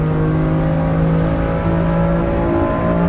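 A race car engine in the racing sim Assetto Corsa EVO holds a loud, steady, high-revving drone with a smooth, sustained pitch under throttle and no voices.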